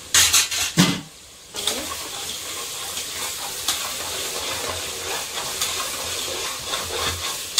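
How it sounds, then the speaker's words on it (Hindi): Masala spices for biryani fry in a pan with a continuous hissing sizzle and scraping stirs, loud clattering at the start, then a steady, close frying hiss. "अभी मसाला मेरा भून रहा है"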